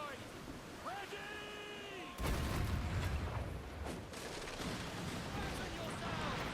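Ship cannons fire a broadside in Assassin's Creed Black Flag naval combat: a sudden loud boom cuts in partway and rumbles on with further blasts, and a voice is heard before the salvo.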